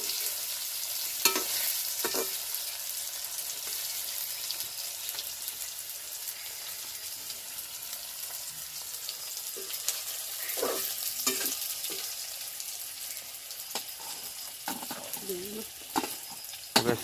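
Paneer frying in a pan makes a steady, close sizzle with scattered crackles and occasional louder pops, plus a few soft stirring knocks toward the end.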